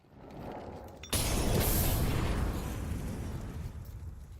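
A grenade detonates in a competitive first-person shooter match, a sudden loud burst that cuts in after a quieter stretch and then rumbles and decays over several seconds, with no talk.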